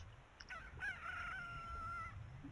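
A rooster crows once from the Zelda: Ocarina of Time video game, a clear drawn-out cock-a-doodle-doo carried over a steady soft background.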